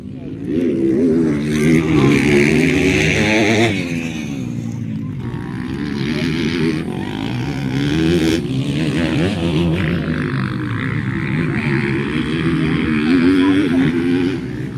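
A Kawasaki engine running nearby with a steady droning hum that rises and falls in pitch as it revs, with people talking over it.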